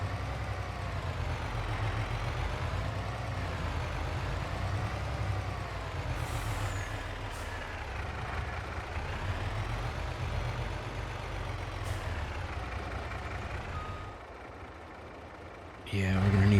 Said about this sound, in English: Let's pull the truck over to the spawn point for those.